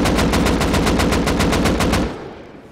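Rapid full-auto spray from a rifle fitted with a muzzle brake in the game Rust, about a dozen loud evenly spaced shots over two seconds, then a fading echo tail.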